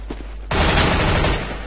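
A Counter-Strike: Global Offensive gunshot on Dust II hits as one loud, abrupt blast that then stays as a dense, noisy burst of roughly a second before easing off slightly.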